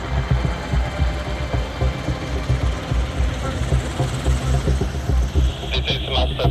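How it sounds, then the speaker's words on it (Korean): A special forces helicopter flies with a dense, steady rotor and engine roar that stays loud and close throughout, with no speech over it. "특전사 헬기가 서울로 일단 계속 진입을 합니다"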